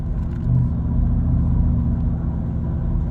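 A Ford Coyote V8 rumbles through its exhaust at a steady idle outdoors in light drizzle, a deep, close, continuous burble with no talking.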